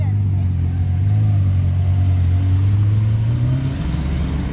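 A McLaren pulls away at a Luxembourg Cars&Coffee meet, its engine note rising steadily as it accelerates, loud and close at first, with crowd chatter underneath.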